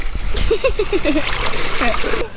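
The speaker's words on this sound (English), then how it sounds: "Can you believe we already made it to the waterfall?" Rushing waterfall at Montezuma, Costa Rica, a steady broadband splashing roar running the whole time beneath close voices talking.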